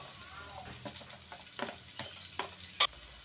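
Garlic then onion sautéing in a pan heated until very hot sizzle steadily, with scattered spoon scrapes and stirring knocks and one sharp clatter near the end.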